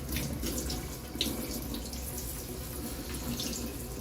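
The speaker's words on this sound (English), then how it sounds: "And then I'm going to wash these ones as well." A steady stream of tap water runs into a sink while leafy greens are washed, a continuous close splashing rush with a faint clink partway through and no talk.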